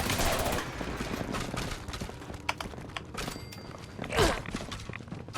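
Sporadic gunshots in the Fallout 76 video game, scattered sharp reports amid clattering, footstep-like knocks and busy background noise, with one louder burst near the end.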